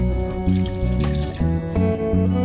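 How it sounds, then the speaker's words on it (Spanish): Tap water pours into a cooking pot to make broth for a cauliflower and shrimp dish, a continuous close splashing stream with shifting tone as the pot fills, with no talking. "Vamos a añadirle alrededor de 1 litro de agua para hacer el caldo."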